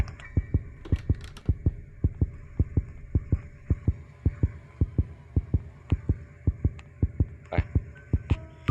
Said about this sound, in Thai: อุ้ยมีเสียงหัวใจด้วย